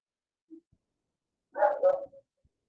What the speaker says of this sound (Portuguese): Vocês estão escutando o meu cachorro aí?